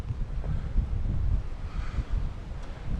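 Gusty wind buffets the microphone in an outdoor graveyard, a steady low rumbling blast that swells and dips for a few seconds with no other sounds.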